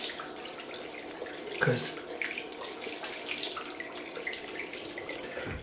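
Tap water runs steadily into a sink for rinsing after a wet shave with a Muhle Rocca safety razor, with a brief splash partway through and a voice speaking a single word over it.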